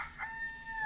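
A rooster crows once, a clear, drawn-out tonal call heard fairly close against a quiet background.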